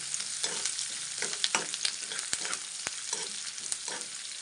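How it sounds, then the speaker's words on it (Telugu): Curry leaves fry in a hot pan with a steady, bright sizzle and crackle, broken by occasional stirring scrapes and pops, close and moderately loud with no talking. "కొంచెం కరివేపాకు, మంచిగా ఫ్రై చేసుకుందామండి"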